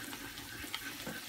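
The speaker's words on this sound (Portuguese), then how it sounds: "depois de selar todos os ossobucos dos dois lados, na mesma panela que grelhou" Flour-coated ossobuco sears in a pan of butter and olive oil, giving a faint, even sizzling hiss with a few soft crackles and no voices.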